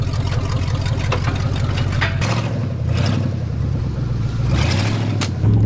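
A deep, loud straight-piped Hemi truck engine idling and rumbling close by while reversing, with a few low revs and a steady throaty exhaust drone throughout.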